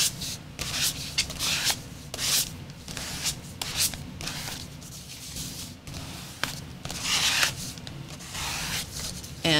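Scraper dragging paint across card in a mixed-media sticker paper project: a run of short, dry rubbing scrapes at an irregular rhythm, close and moderately loud, with no talk.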